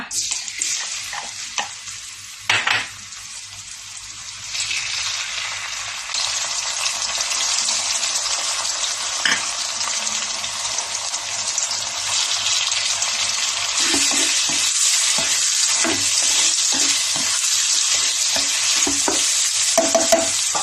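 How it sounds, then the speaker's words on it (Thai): Vegetarian taro dish ingredients stir-fry in a spoonful of vegetable oil: a steady hissing sizzle that grows louder, with intermittent spatula scrapes and taps against the pan, close and without voices. "ก็จะเอาทุกอย่างลงผัดนะคะ"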